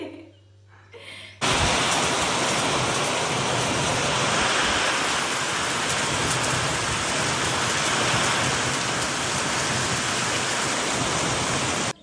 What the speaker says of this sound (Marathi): असला भारी पाऊस झालाय, एवढा मोठा मोठा मोठा पाऊस झालेला आहे